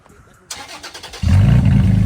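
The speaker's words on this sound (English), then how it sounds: "in case you guys are wondering how it sounds with no exhaust" A Toyota Tacoma engine with no exhaust cranks briefly with a few rhythmic starter pulses, then catches and roars into a loud, raw, deep idle that stays close and heavy, with a brief voice beforehand.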